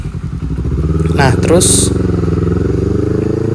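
A Honda CBR250RR 250cc motorcycle rumbles loudly and steadily while being ridden, its engine note rising slightly, as a rider speaks over it.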